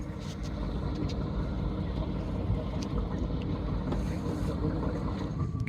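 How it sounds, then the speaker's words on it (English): A passenger ferry from Great Keppel Island approaches, its engine rumbling low and steady under gusting wind noise and lapping water, heard from a sailboat nearby. "And here comes the ferry from GKI,"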